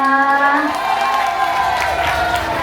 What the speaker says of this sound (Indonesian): Mama, tepuk tangannya mana, Ma?